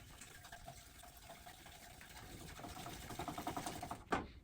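A bamboo whisk works matcha with spirulina in a bowl: quick, rhythmic brushing strokes that grow faster and louder toward the end, finishing with a sharp knock against the rim.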